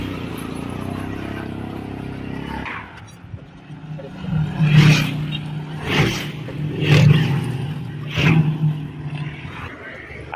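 A just-repaired motorcycle engine idles low and rumbling, then revs up in several rising bursts, close by, with some background voices.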